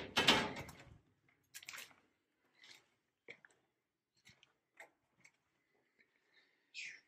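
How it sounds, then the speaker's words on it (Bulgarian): A door swings open inside an old, derelict, abandoned sanatorium, starting with a loud scraping rush, then sparse creaks, knocks and ticks scattered through the quiet, echoing space. "Отваря се вратата."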